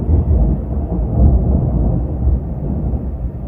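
Deep, continuous rolling rumble of thunder from a nearby thunderstorm, loud and sustained throughout with no talk.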